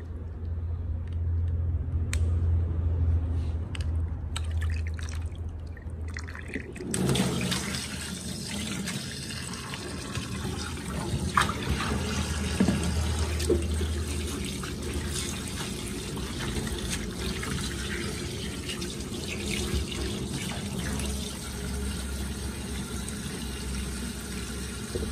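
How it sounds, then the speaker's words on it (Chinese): Pork ribs rinsed under a running kitchen tap; after a quieter start, a steady broadband rush of flowing water fills the rest of the clip with occasional knocks, and no one speaks. "再用流动的清水多冲洗几遍就可以"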